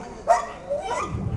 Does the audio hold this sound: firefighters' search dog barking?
yes